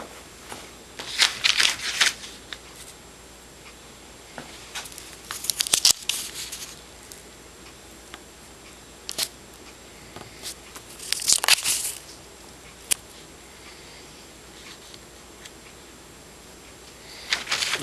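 A large paper pattern is handled and lined up along the edge of a metal sheet, giving intermittent crinkling and rustling bursts with quiet stretches between, close and moderately soft.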